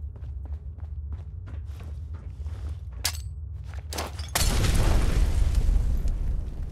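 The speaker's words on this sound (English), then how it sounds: "Fragmentation grenades." Fragmentation grenades burst in the Fallout video game: after light footsteps, two sharp pops ring out, then a loud, sustained blast roars and rumbles to the end.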